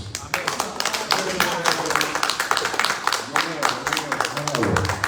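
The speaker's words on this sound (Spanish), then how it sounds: "¿Cuántos pueden darle un fuerte aplauso a Dios?" A church congregation breaks into loud, sustained applause, dense overlapping claps from many hands filling the room, with voices calling out underneath the clapping.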